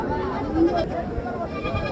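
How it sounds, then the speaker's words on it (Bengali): A red-coated Black Bengal goat bleats once, brief and close, at a weekly Friday livestock market in Ullapara, with someone talking over the crowd noise. "একদম লাল রঙের ব্ল্যাক বেঙ্গল জাতের মাছাগল"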